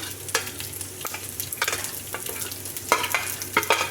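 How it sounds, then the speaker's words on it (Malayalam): Garlic and ginger fry in oil in a pan for beef pickle, giving a steady soft sizzle with sharp spoon-stirring scrapes and clinks scattered throughout. "ഇനി ഇതിലേക്ക് നമുക്ക് വെളുത്തുള്ളി ഇട്ട് കൊടുക്കാം"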